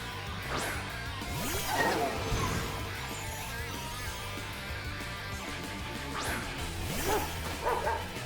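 A dog Pokémon's cry during a Pokémon Violet battle at a fairy-themed beach, a couple of yappy, whining calls rising over steady game music, with a brief crash-like effect.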